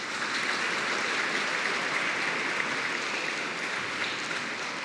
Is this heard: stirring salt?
no